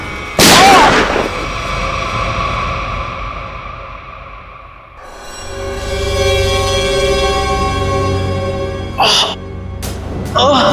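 One loud gunshot bangs out near the start of a TV crime drama scene in a village, followed by a tense droning background with voices underneath.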